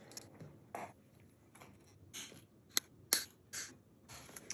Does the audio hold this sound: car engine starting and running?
no